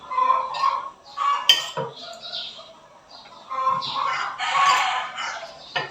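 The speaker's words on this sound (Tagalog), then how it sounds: "manok." Chickens clucking and a rooster calling outdoors at breakfast time, fairly close and continuous, with a tonal crow-like call and scattered bird chirps over a busy background.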